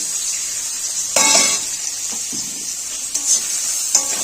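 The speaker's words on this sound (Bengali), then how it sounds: "আলু ভাজার তেলটাতে আমি পেঁয়াজটা দিয়ে নেব।" Chopped onions go into hot oil left from frying potatoes while making a spicy chicken curry, giving a steady hiss with louder sizzling bursts and a few soft clinks of stirring, with no talking.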